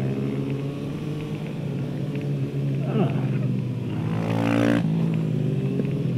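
A Kawasaki Ninja motorcycle runs on a race track with a steady engine drone, rising in a rev sweep near the middle and building louder toward the end, with faint voice sounds underneath.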